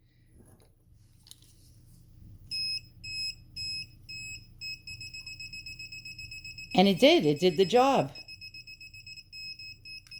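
A budget metal detecting pinpointer gives repeated short electronic beeps in a steady pulsing rhythm, loud and close. Someone talks over it, and his voice briefly dominates midway.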